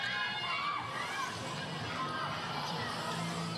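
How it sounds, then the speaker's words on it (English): A basketball crowd at a WNBL Townsville Fire versus Bendigo Spirit game gives off a continuous broad roar of murmuring and scattered shouts, with a commentator's voice running over it. "you can hear the crowd just starting to try and build a little bit of energy here"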